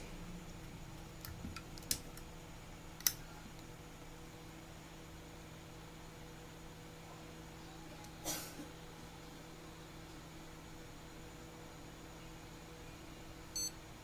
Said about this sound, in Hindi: ये देखो बीप आया